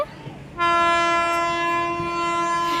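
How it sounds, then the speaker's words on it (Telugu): A train arriving at a railway platform sounds a loud, sustained horn close by after a brief quieter moment, the blast holding steady to the end over low rumble. "ఇక్కడ ట్రైన్ వస్తుంది."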